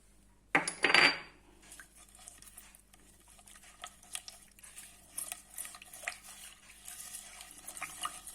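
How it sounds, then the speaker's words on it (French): Sugar, yeast and a little water are mixed for beignet dough, opening with a loud pour or rattle into a glass, followed by soft, faint stirring clinks and taps. "j'ai mis du sucre et la levure, un petit peu d'eau pour y diluer"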